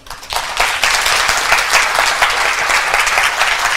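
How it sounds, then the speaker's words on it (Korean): Audience applause breaks out at the close of an invited medical seminar talk on knee arthritis. The clapping starts abruptly, then holds as a loud, dense and steady ovation from a full room with no speech over it. "다시 한번 큰 박수 부탁드립니다"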